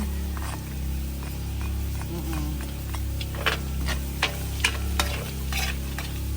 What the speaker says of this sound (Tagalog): gisa natin ang bawang